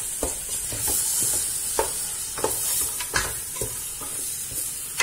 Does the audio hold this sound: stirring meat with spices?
yes